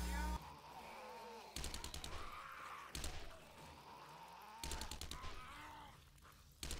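Rapid bursts of gunfire from a zombie shooter video game play in repeated volleys between stretches of game noise, with a voice talking faintly underneath.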